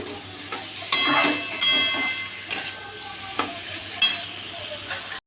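Spiced potato curry with turmeric, salt and a little sugar sautés in a pan, a constant sizzle broken by about six scraping stirs at an uneven rhythm, close by.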